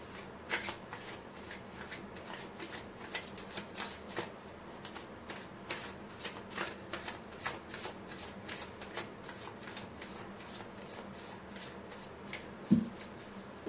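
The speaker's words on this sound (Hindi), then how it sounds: "मैं कर लेती हूँ कार्ड की शफलिंग।" Tarot cards being shuffled by hand in a quiet room, a steady run of crisp riffling flicks and soft card slaps repeating for over thirteen seconds, close and moderately quiet, with one louder knock near the end.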